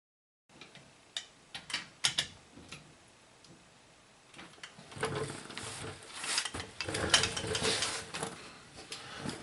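A torque wrench clicks while hub bolts on a Chevy 2500HD are tightened to spec, giving scattered sharp ticks at first, then a busier run of metallic clicks and ratcheting toward the end.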